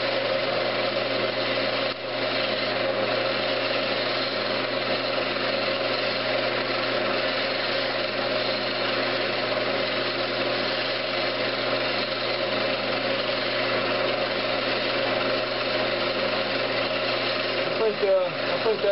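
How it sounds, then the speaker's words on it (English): A drill with a 1/16 inch bit bores through the middle of a turned wooden Christmas ornament held in pliers, producing a steady, continuous motor whine at even loudness for the whole stretch. "I've got a 16th inch drill bit, and I'm just going to drill right down through the middle."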